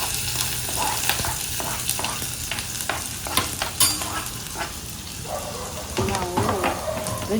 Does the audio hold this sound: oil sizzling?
yes